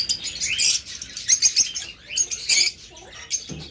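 A pair of caged pet birds on a breeding farm chirping rapidly in high, bright bursts, with brief wing flaps and rustling in between, close and fairly loud.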